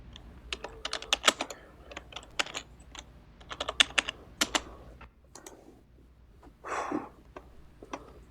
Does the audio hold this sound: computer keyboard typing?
yes